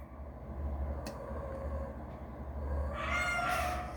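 A domestic cat gives a drawn-out, rising meow near the end, preceded by low rumbling background noise and a couple of faint clicks, with no one talking.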